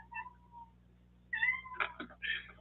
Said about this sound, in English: You're meowing over there at mom's door.